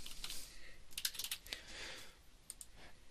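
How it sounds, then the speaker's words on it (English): Fingers type a username on a computer keyboard, a quick uneven run of light plastic key clicks in short bursts, fairly quiet and close, with no talking. "they're going to type in their username."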